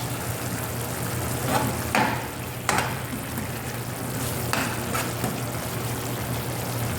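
Eggplant frying in a pan, a steady close sizzle of hot oil with a few louder crackling spurts and stirring scrapes.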